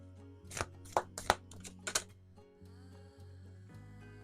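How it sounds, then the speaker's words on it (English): Tarot cards are shuffled by hand in a few quick, crisp riffles and slaps, spaced irregularly and close up, over a soft background hum. "Very awkward shuffling today."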